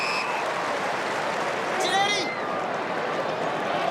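Excited crowd at Subiaco stadium cheering an AFL match between Carlton and Fremantle, a broad steady roar with a brief swell and whistle-like tones near the middle, heard from a distance beneath the broadcast.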